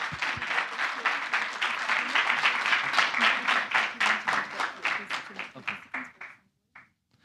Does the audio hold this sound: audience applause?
yes